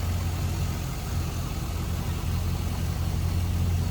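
A 2005 Chevrolet SSR with a 6-liter V8 idles steadily, a deep, constant low rumble that sits close and even for a few seconds, with no voices over it.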